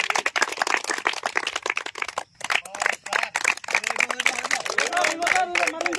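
A group claps along at a high jump physical efficiency test for male candidates, dense rapid hand claps filling the outdoor scene alongside crowd chatter.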